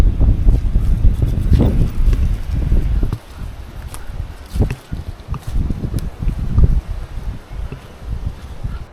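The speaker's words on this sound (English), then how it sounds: "the wind is still pretty crazy" Strong gusty wind buffets a campsite, heavy rumbling blasts hitting close to the microphone, easing briefly after about three seconds before more gusts roll in; no voices.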